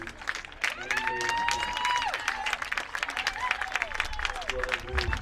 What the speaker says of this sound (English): please give one more round of applause to our senior lacrosse players